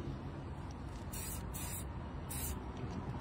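Plastic and rubber shine spray is applied to a vehicle body: three or four short hissing bursts from the can over a steady background rumble, with no talk.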